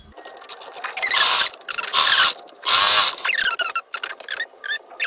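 A sewing machine stitching fabric pieces together in loud mechanical bursts of rapid whirring, separated by short pauses and clicks.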